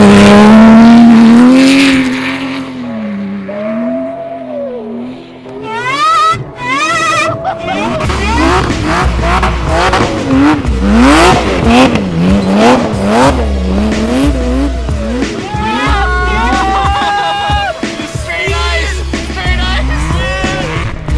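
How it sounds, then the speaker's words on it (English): Rally Porsche driving on a frozen lake, its supercharger whining loudly from just behind the seats, pitch rising and falling as the engine revs up and down, with excited voices talking over it inside the car. "it sounds like the supercharger is literally right behind your head"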